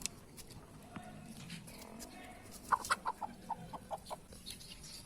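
A chicken clucking in a series of short, evenly spaced clucks in an outdoor scene, fairly faint and mid-distance, with quiet voices and background rustle around it.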